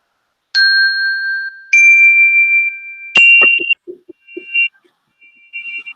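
Chimes ring out at the opening of a Norse-tradition spiritual circle: three clear, bright strikes a second or so apart, each sustaining with a long shimmering decay, followed by softer tinkling notes that fade.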